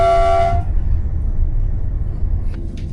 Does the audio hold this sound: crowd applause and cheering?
no